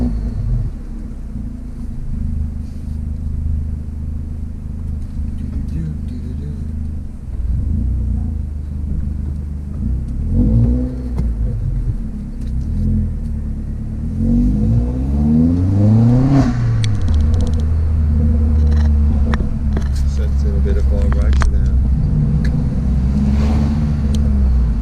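A Vauxhall Astra VXR with a decat exhaust idles with a deep, raspy rumble, then revs up several times in rising and falling sweeps, loud and close, with no talk.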